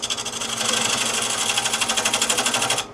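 Wood lathe spinning near 800 rpm while a tool removes the tenon from a live edge wood bowl, producing a loud steady whirring with a rapid pulsing rhythm that cuts off abruptly at the end.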